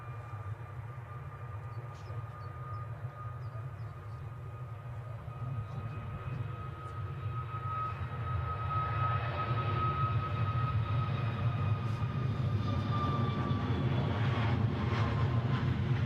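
At Edinburgh Airport, an airplane takes off with a steady, distant engine roar that slowly swells louder, a low rumble running under a thin whine, with no talking.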